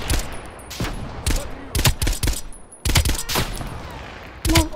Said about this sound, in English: Oh boy, they're shooting at you.